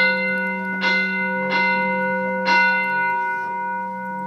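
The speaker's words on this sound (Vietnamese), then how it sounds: "chuông để hô quân binh dậy để phục vụ ông." A temple bell is struck four times at a steady, unhurried pace, each ring rising over a sustained humming drone and fading slowly, during a spirit-possession ritual at a Vietnamese temple.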